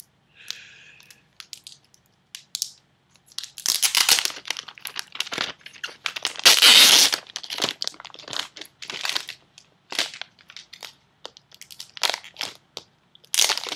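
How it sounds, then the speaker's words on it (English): HP TouchPad packaging is torn open and unwrapped, a run of loud crinkling, crunching plastic and paper bursts with short pauses in between, very close, with no voices. "Let's unwrap this."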